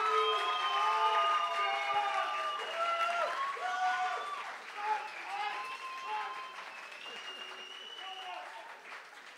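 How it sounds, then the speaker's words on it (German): A poetry slam audience claps and cheers loudly for a contestant, sustained applause mixed with shouting and whooping voices that slowly tapers toward the end. "Wenn ihr aber glaubt, Lukas Bühner ist der Sieger des heutigen Abends, dann klatscht bitte jetzt!"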